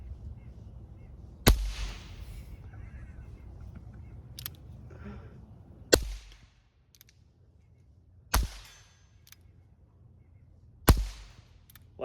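Four sharp, loud unsuppressed pistol shots from a Standard Manufacturing Switch Gun firing Calibre rounds at steel targets, spaced a few seconds apart, each followed by a short decay over quiet outdoor background.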